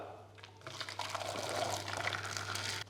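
One litre of hot water poured into a fermenter with chlorinated trisodium phosphate for sterilizing, a close, steady liquid rush building over a few seconds above a constant low electrical hum.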